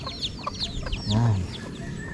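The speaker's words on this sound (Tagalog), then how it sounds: "Yan po yung aming mga manok, mga gala." Free-range chickens clucking outdoors after rain, several close, bright clucks and calls in a quick scattered run, with a brief word spoken over them.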